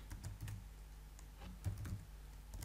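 Quiet, steady typing on a computer keyboard while entering code, with a run of close, light key clicks in an uneven rhythm and no talk over it.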